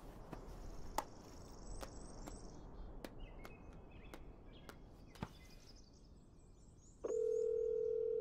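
A mobile phone call rings out as someone dials: a steady electronic calling tone, with faint chirps and clicks early on, then a louder continuous tone near the end, and no voices.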